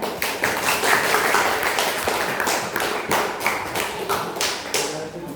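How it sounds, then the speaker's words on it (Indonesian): A classroom audience at a junior high school claps, with close, loud, slightly uneven hand claps in a fast patter for several seconds. "tepuk tangan dulu buat Bunda"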